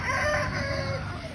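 Chickens and a rooster squabble over greens, a brief burst of loud, close clucking and squawking.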